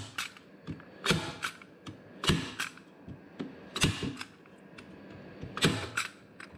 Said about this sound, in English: we'll fold that around and then we'll staple it in